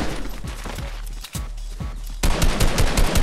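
Rapid gunfire from Fortnite rattles in repeated bursts, close and loud, a short lull in the middle before an even louder dense volley of shots takes over to the end.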